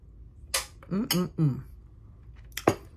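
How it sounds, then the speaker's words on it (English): A metal spoon or fork scrapes and clinks against a plate during a meal of rice, ackee and saltfish, with a few sharp clinks spaced out over a quiet room and brief mouth sounds between. "I'm eating me some rice and ackee and saltfish."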